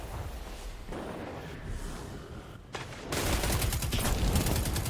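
Shotgun fire in a Destiny 2 Crucible match, a sustained run of loud, close blasts and gunfire with a sharper, denser barrage near the end.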